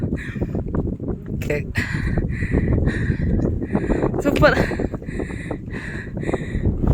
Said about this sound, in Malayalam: ഓ അടിപൊളി കാറ്റ് കേട്ടോ